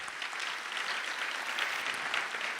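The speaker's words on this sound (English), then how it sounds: "I think she deserves another round of applause." Audience applause at a human rights elections statement launch held at Nelson Mandela University, a steady, dense round of clapping from a seated crowd filling the room without pause.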